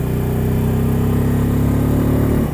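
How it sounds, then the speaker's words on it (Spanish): Bajaj Pulsar N250 motorcycle engine on a track, a loud, close, steady drone that climbs slowly in pitch as the bike keeps accelerating, then drops off abruptly at the end. "Y la pinche moto sigue elevando, sigue acelerando."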